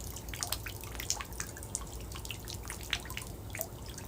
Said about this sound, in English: you hear the drips?